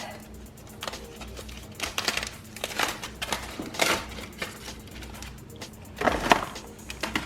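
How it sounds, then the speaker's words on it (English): Cooked potatoes unwrapped into a container, heard as close crinkling and rustling of wrapping with irregular bursts of crackle and a few thuds, fairly quiet. "So I'm just going to unwrap."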